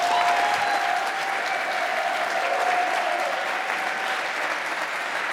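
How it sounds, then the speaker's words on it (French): An audience at a gala claps steadily and densely, a sustained wash of applause from a large crowd that continues without a break. "s'il vous plaît, applaudissez David Karumbata."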